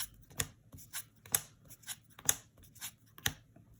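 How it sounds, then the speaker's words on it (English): A deck of trading cards for a Floowandereeze game is shuffled and cut by hand, giving a run of brisk riffling and slapping bursts at a steady rhythm, close and fairly quiet, with no voices. "So I'm just giving the deck a quick shuffle and a cut"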